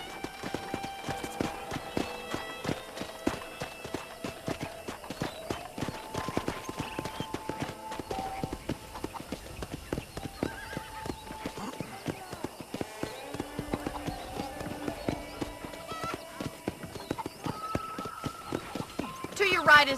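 Horse hooves clip-clop at a steady trot on a ranch in the video game Red Dead Redemption, close and rhythmic throughout, with game music and occasional voices in the background.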